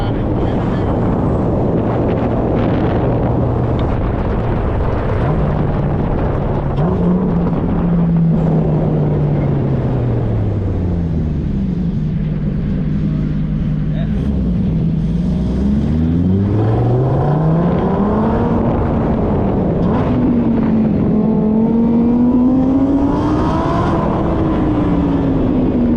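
A Harley Davidson Road Glide engine drones close and loud, rising and falling through several revs over sustained wind buffeting on the microphone.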